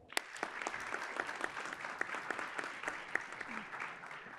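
An audience at an investment-fund panel event claps steadily, a fairly faint, dense patter of hands with a few sharper claps standing out, alone without talk.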